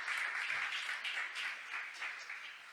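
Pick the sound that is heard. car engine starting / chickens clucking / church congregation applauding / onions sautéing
church congregation applauding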